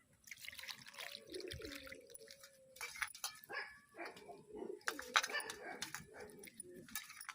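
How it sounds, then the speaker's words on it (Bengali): Snakehead fish pieces being rinsed by hand in clean water in a kitchen, with light splashing and trickling over several seconds and a dog barking intermittently nearby. "মাছের এই কালো অংশগুলো পরিষ্কার জলে একটু ধুয়ে নেব।"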